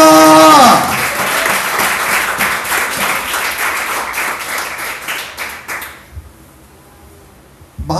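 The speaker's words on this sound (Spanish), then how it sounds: "Y la iglesia aplaude al Cristo de la gloria." Church congregation applauding during a sermon, loud enthusiastic clapping from many people that follows a sung or spoken note at the start, then thins out and fades to near silence.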